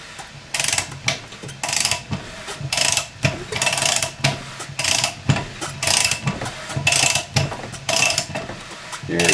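A Subaru engine with a freshly fitted cylinder head is turned over by hand with a ratchet, giving repeated close clicking and mechanical rattling in uneven bursts with brief pauses, no voices.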